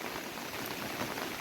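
Heavy rain falling outdoors in the Konkan countryside, a dense, steady hiss of drops at moderate distance, continuous and even with no talk.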